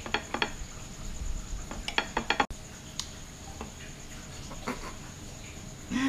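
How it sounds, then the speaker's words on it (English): Knife and fork scraping and tapping on a plate while cutting steamed asparagus at a vegan restaurant in Jimbaran, with scattered clinks and light clatter, close and moderately loud, no talking. "I think I'm going to take the knife, and cut some asparagus."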